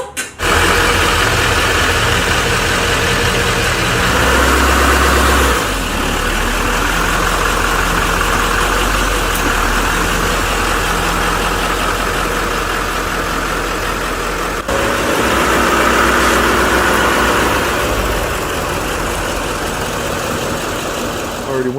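Car engine idling after being restarted, a loud steady rumble that holds throughout with slight shifts in level.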